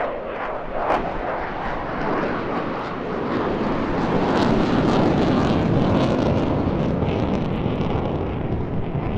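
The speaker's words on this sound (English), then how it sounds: "that maneuver just really demonstrates just the supreme power of this machine, going from 120 knots back into full reheat and then climbing on its tail effortlessly" A jet fighter at an airshow goes into full reheat and climbs, a loud, sustained broadband roar that swells and holds steady with wind buffeting and no talk.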